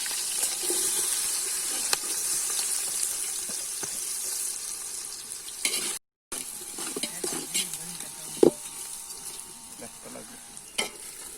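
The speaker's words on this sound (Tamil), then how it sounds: "இப்போ வெங்காயம் வதங்க ஆரம்பிச்சுட்டு" Steady sizzling of onions sautéing in oil for biryani, with occasional stirring clatter and scrapes, fairly close; a brief silent gap midway.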